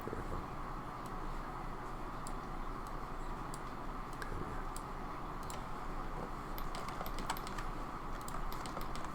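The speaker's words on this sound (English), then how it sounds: "I'll just be hitting 1, 2, 3, 4, or 5 on my keyboard." Steady computer keyboard typing, a run of light plastic key clicks at an even pace, close and fairly loud, with no one talking over it.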